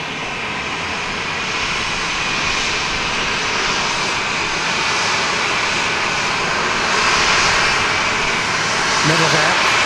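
A loud airplane at Dallas Love Field roars steadily with broadband jet noise that swells slightly toward the end, with talk faintly audible beneath it.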